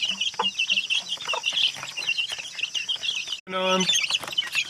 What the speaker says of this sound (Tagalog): Ito po yung ina. Kaya yung mga sisiw.